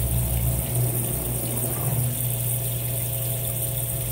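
Wash water pours into a Consul 16 kg washing machine: a steady pump-like hum with a continuous rushing gush, loud and close, with no break.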